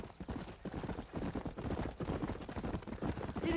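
Horse hooves clip-clopping in the video game Red Dead Redemption, a steady galloping rhythm of quiet, muffled hoofbeats that continues throughout.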